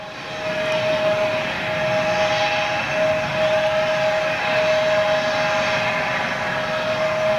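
Small Embraer jet passing at Manchester airport, a steady loud engine roar with a sustained whine running throughout, no voices.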